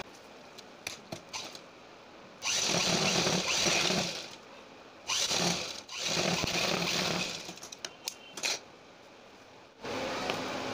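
A sewing machine stitches folded piping fabric for a kurti back-neck design, running in three or four sustained bursts of a few seconds each, with short pauses and light clicks and handling between runs.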